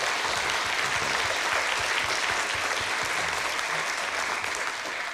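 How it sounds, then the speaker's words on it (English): An audience at a question-and-answer event applauds continuously, a thick, even wash of clapping that holds steady the whole way through. "How about one more round of applause for Santes?"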